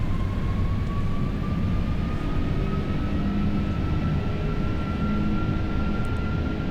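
Airbus A330 thrust reversers roaring during landing rollout in X-Plane 12, a steady broad engine rush with a faint rising whine, continuous and loud throughout with no talking.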